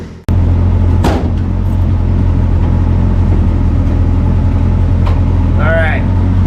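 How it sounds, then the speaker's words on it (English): A Datsun truck engine with a swapped carburetor runs on a test drive. It gives a loud, close, steady low rumble, with a few thumps and a brief squeak over it. "I think we're gonna try to take it for another test drive"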